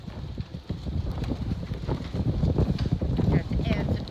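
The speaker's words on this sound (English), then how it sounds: "It's a windy day on Tocino, Georgetown, South Carolina." Gusty wind on a blustery day beside a moored boat in Georgetown, South Carolina, roaring and buffeting the microphone in a steady low rumble with rising and falling surges.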